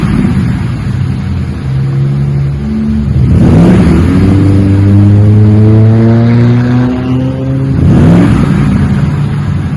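A 2017 Ford F-150 engine revs through a Magnaflow muffler, with two sharp throttle blips and a smooth rising and falling sweep between them, close and loud over a steady mellow exhaust note.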